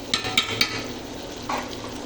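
Tomatoes sautéing in a pan over a flame for biryani, giving a close, steady sizzle with three quick metallic taps of a spoon early and a softer scrape toward the end, and no talking.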